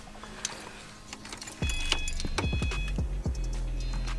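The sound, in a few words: car keys jangling in ignition, Subaru WRX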